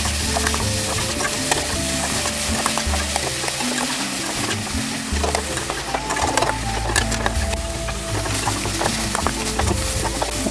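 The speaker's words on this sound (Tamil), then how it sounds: "இந்த வெங்காயத்தை வதக்கிடுவோங்க" Onions sautéing in hot oil for an omelette, a loud continuous close sizzle with frequent spatula stirring clatter and crackles throughout, no talking.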